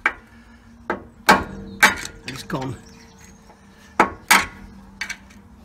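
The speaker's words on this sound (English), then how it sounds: "Right, so I've got a hammer. It's just a simple tap" A hammer taps an old, worn screwdriver to knock weld spatter off metalwork during a 2011 Land Rover Defender Puma 90 refresh. Several sharp, close metallic taps come at uneven intervals, with someone speaking briefly between them.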